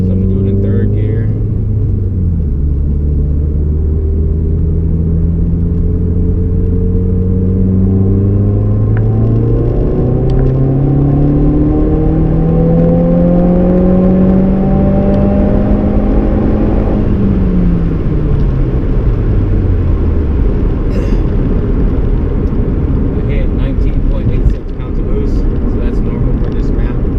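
A Subaru WRX fitted with a Cobb bypass valve accelerates hard in third gear, its engine note climbing steadily in loud, rising drone before lifting off; heard close, with a brief whoosh from the valve near the end.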